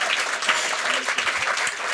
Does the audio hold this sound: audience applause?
yes